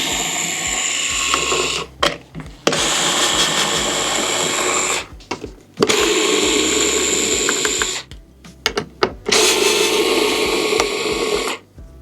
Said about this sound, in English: now I am going to remove my 4 rail screws